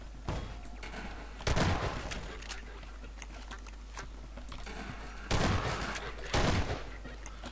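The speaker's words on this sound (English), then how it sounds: "I like firing both barrels at the same time by pressing right mouse button instead of left mouse button." In the video game Half-Life 2, a shotgun fires both barrels at once, producing a few sharp, loud blasts spread across the clip over a steady game background.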